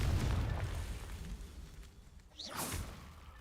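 A Confringo fire-blast spell bursts in Hogwarts Legacy, a loud low boom at the start that tails off, then a bright whooshing swish near the end.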